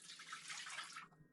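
Bottled water poured into a pot for pickling brine, a short, bright splashing pour lasting about a second before cutting off abruptly, close and fairly quiet.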